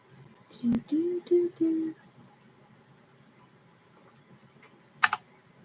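A handful of scattered computer keyboard clicks from an unplugged, unresponsive keyboard, close and sharp, with a short string of tonal hums near the start and quiet gaps between.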